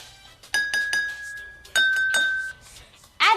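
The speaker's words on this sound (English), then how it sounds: "Use a spoon to tap each glass and compare the pitches." A spoon taps water-filled drinking glasses, giving several bright ringing clinks with sustained tones that hang between strikes, followed by a quicker cluster of taps at the end; no voices.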